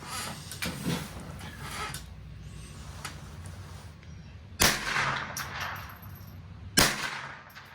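Two sharp rifle shots from a .22 LR aimed at a distant target, cracking out at about 4.6 and 6.8 seconds over a low outdoor rumble, each with a short ringing tail.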